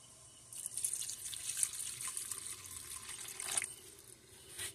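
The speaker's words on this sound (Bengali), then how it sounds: "এখন আমি পানি দিয়ে দিব" Water pours into a pan of spicy Bengali bele fish curry in a soft, continuous splashing stream that starts after a brief quiet moment, close but faint, with no voices.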